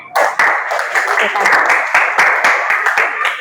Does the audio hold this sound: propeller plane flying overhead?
no